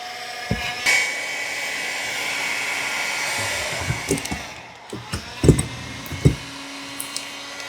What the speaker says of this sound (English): The best thing to do is use a heat gun to heat it up.